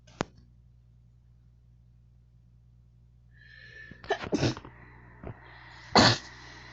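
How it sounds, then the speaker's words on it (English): One sharp sneeze near the start, then a run of throat-clearing and coughing bursts with sniffles, close and alone indoors, with no speech during it. "Oh god, I feel like I'm gonna sneeze."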